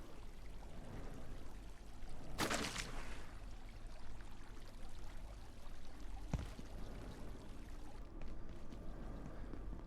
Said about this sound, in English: Just by the lift, you've got yet another fountain.